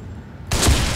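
A single loud gunshot in the video game The Evil Within erupts abruptly after a quiet moment, followed by a sustained booming, noisy tail.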